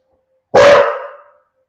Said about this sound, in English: My dog's just barking.